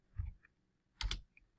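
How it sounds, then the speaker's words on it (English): Two quick, faint bursts of keystrokes tap on a computer keyboard, separated by a short pause, in a quiet room with no talking. "we can just go back up here and just type that in here"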